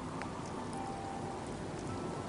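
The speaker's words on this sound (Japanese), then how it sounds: "ちょっと雨降ってきた" Soft, even patter of rain in Fallout 4, a faint continuous hiss of falling drops with no talking over it.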